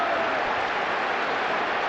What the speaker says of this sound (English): just listen to that roar from the St James's Park crowd